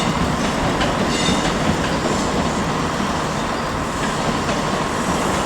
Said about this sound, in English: our final trains of the day are going to be 43135, leading a service towards Inverness via Stirling and Perth